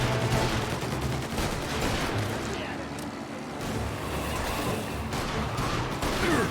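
Rapid automatic gunfire from a submachine gun in the Mafia: Definitive Edition video game, dense bursts mixed into loud in-game noise and engine din, continuous across the clip.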